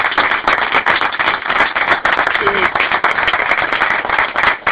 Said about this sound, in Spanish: un aplauso por Ada Lovelace